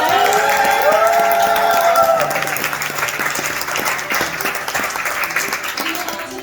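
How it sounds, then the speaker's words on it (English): A crowd at a graduation celebration breaks into applause, starting with cheering voices over the clapping, then settling into steady, close, sustained clapping that continues to the end. "let's give them a round of applause"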